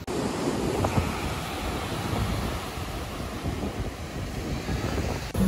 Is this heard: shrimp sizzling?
no